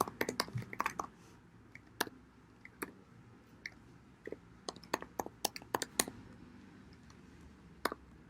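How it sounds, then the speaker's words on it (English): Computer keyboard keys are typed in scattered, uneven bursts while an email address is entered, with clicks fairly close but quiet and no talking. "Then I'll key in my email address."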